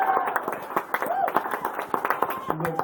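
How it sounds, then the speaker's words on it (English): Wedding guests break into applause during a best man's speech, with a brisk patter of many hands clapping close by and voices chattering underneath. "Let's give her a big round of applause."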